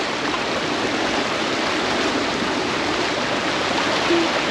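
Strong river current rushing steadily, a dense broadband roar of flowing water that stays loud and unbroken throughout, with no voices over it.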